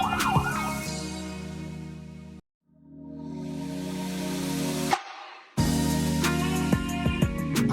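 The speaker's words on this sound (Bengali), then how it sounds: "এই অ্যাম্বুলেন্সটা অনেকক্ষণ যাবৎ সাইড দেওয়ার জন্য ইয়ে করতেছে" An ambulance on a busy road sounds its siren and horn while trying to get past traffic, sustained wailing tones that cut out briefly and resume, fairly loud over engine hum.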